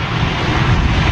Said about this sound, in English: Looks like a United States triple Boeing Dreamliner